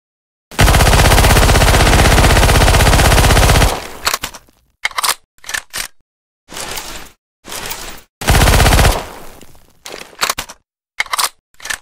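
A machine gun from Titanfall and Apex Legends weapon mods in Left 4 Dead 2 fires a long, loud continuous burst, then short choppy bursts with gaps, then another sustained stretch and more short bursts.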